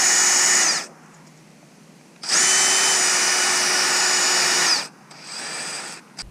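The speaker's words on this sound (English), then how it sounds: "And now we're going to drill right there." A power drill bores into the tailgate of a 2021 Toyota Tacoma in three loud, close bursts of high whine: a short one, a longer steady run, then a brief softer pass, with quiet pauses between.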